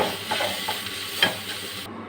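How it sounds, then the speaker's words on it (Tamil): Boiled velipparuthi pods stir-fried in a pan with sambar powder and grated coconut: a soft continuous sizzle with scraping stirs from a spoon, close by. "சாம்பார் தூள் நம்ம வேக வச்ச வேலிப்பத்திக்காய் போட்டு நல்லா வதக்கிக்கலாங்க கலந்து தேங்காய் துருவல் கொஞ்சம் சேர்த்து வதக்கி"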